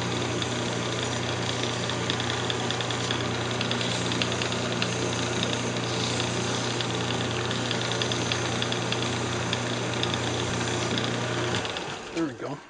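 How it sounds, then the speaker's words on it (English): A wood lathe spins a redwood Christmas ornament at higher speed, a loud, steady mechanical hum and whir with a constant low drone that holds nearly unchanged before winding down near the end. "so I'm turning the lathe speed back up"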